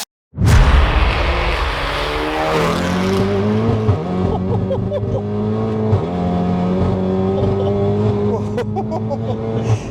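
A tuned 615 bhp Mk7 Volkswagen Golf R engine cranks and fires up loudly, then revs hard in repeated surges with a throaty, close-up roar and rising pitch.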